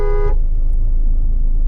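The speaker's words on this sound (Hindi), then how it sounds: "हॉर्न दो" A Mahindra Thar ROXX MX1 sounds its horn once, a short bright honk of about a third of a second, followed by the vehicle's low engine rumble continuing close by.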